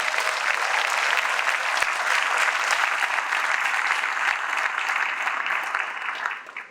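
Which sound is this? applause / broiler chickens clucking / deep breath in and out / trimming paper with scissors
applause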